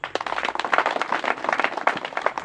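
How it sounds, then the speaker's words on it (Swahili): An audience claps at a church gathering, a dense burst of hand claps carrying on steadily for a couple of seconds, fairly close and with no one speaking over it. "tumpigie makofi"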